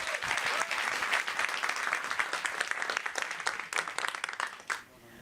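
Warm audience applause at a live evening talk event, a dense steady round of clapping that fades out near the end.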